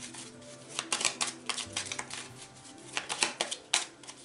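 A playing card slides off a deck in a quiet room, making soft crisp flicks and short shuffling rustles in scattered bursts, fairly close and faint.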